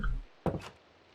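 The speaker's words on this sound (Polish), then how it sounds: "Zamykamy drzwi i biegniemy sobie tym korytarzem." A wooden door closes in Minecraft, one short dull thunk in quiet, with a softer knock just after.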